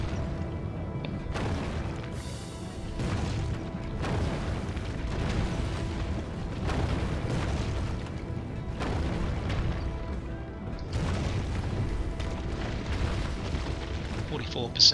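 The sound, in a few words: onager siege engine attacking walls in Roma Surrectum II video game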